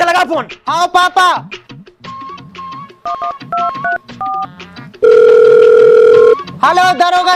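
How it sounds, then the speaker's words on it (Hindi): A telephone dials out to call the police, with a series of keypad tones and a long steady tone, between stretches of close talking voices. "बेटा पुलिस का लगा फोन।"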